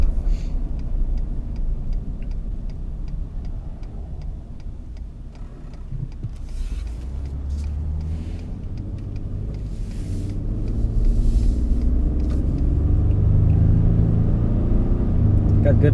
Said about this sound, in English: So I'm going to take this up into the highway and see how it does